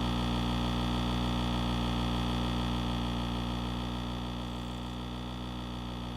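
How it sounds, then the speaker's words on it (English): Vehicle engine in the video game Farming Simulator 25 running at a steady, even drone, constant and moderately quiet with no talk over it. "Just let me know if the engine noise is too loud."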